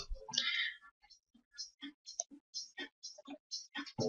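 A single mouse click on a computer, followed by a scatter of faint, soft ticks and clicks in an otherwise quiet room.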